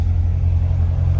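A 2019 Corvette Grand Sport 2LT idles close by, its engine giving a deep, steady, throbbing rumble with a low pulsing beat and no voices.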